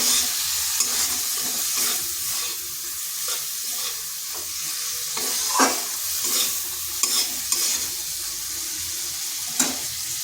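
Ground cumin, coriander and chilli powder are sautéed in a pan, giving a constant close frying hiss under repeated stirring and scraping strokes, with a few sharper clinks of the spoon and no talking.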